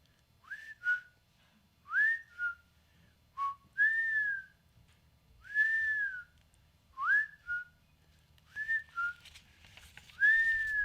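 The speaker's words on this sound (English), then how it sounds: "I finally learned how to whistle like you" A person whistles a short melody alone: a series of clear, rising and sliding notes in uneven phrases, close and steady, with quiet gaps between them.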